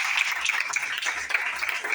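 A crowd claps along at a church teaching gathering, a steady dense patter of applause filling the whole stretch at moderate level, with no talk over it.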